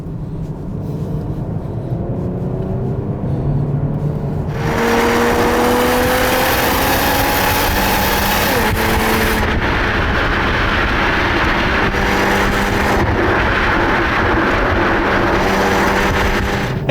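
A Nissan Fuga sedan engine revving hard in sport mode with the gearbox in manual, pitch climbing through gears with brief dips at shifts, loud and close over road noise.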